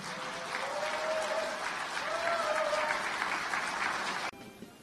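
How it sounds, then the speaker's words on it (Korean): A crowd at a Democratic Party leadership candidates' joint rally in Gyeongnam gives a loud, sustained round of applause after candidate Choo Mi-ae's speech. The applause cuts off abruptly into quieter room noise. "승리를 위해 다시 한번 힘찬 박수 부탁드립니다"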